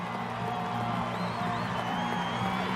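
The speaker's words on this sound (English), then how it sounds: "listen to the crowd and that ovation and the hugs" Crowd at a 2008 NCAA women's gymnastics meet in Utah, Minnesota at Utah, giving a sustained ovation after a vault, a steady roar of cheering with scattered whoops filling the arena.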